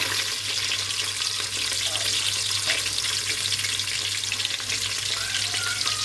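Onions frying in a pan for egg biryani, a steady, close sizzle and hiss that holds evenly throughout, with a constant low hum underneath and a few faint clinks.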